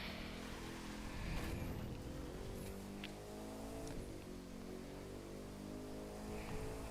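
A car engine in The Crew 2 racing game drones and shifts pitch continuously as the race car accelerates, steady and fairly loud with no talking.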